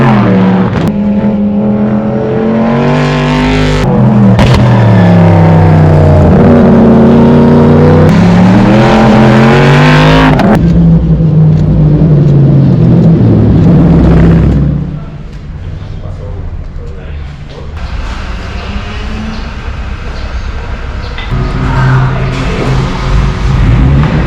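A 580HP Daytona GT Coupe race car approaches through Turn 2 at Bira Circuit in Thailand on a hot, humid morning after rain. Its engine climbs loudly through rising revs, peaks as it passes close by, then fades into the distance.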